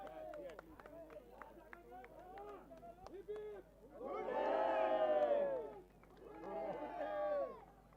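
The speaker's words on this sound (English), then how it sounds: "A huge round of applause for our main sponsor." At a prize ceremony, a crowd greets the main sponsor with loud cheering and whooping in two rising bursts, following a stretch of excited voices and a few scattered claps.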